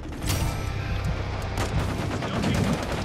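Sustained enemy gunfire in a first-person shooter video game, a dense continuous barrage of rapid shots with booming low end, loud and unbroken throughout.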